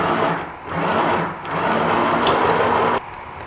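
A sewing machine stitching the center back seam of a teddy runs in a loud, continuous whir with a brief slowdown partway, then drops off near the end.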